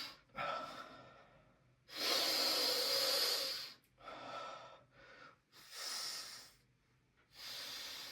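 Close, loud breaths drawn and pushed through one nostril with the other held shut during a breathing exercise, several long hissing inhales and exhales separated by short pauses, with no talk.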